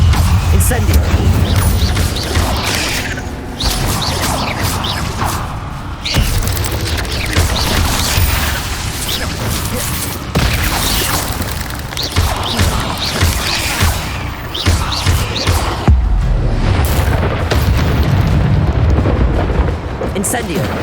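Incendio fire spell blasts in Hogwarts Legacy, loud repeated booming bursts and roaring crashes with dense rumbling game combat noise throughout.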